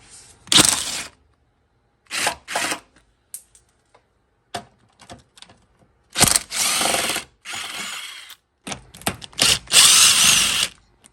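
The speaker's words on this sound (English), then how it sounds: "so we're gonna drill these out." A power drill drilling out fasteners on a Chevy Suburban, whirring in several bursts of varying length, some short and stuttering, others sustained, loud and close with silent gaps between.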